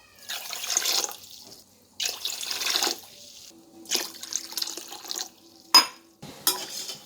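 Water pours in uneven splashing bursts into a pan while jaggery syrup is prepared for gulab jamun, several separate pours with short pauses, close and clear with no voices.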